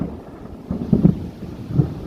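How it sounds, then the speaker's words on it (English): Low rumbling thunder from an evening storm, a soft roll building around the middle with a second low swell near the end, faint and distant under steady wind noise. "I'm about to hear the thunder."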